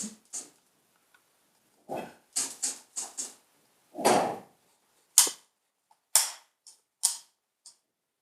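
Expanding foam crackling as gusts of wind blow over it: sharp, brittle pops and crackles arrive in about a dozen short, irregular bursts, close and fairly loud, with quiet gaps between them and no talking.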